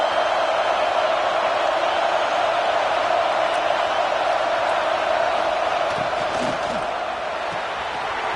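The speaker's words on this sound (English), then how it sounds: "this big crowd doing everything possible to inspire this defense down here near the goal line" A big stadium crowd at a Tigers football game roars while the defense holds near the goal line, a dense, steady wash of distant cheering that never lets up.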